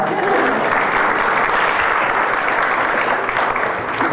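Loud, sustained applause from a crowd at a roast event aboard a low-carb cruise, a thick continuous roar of clapping with faint voices mixed in.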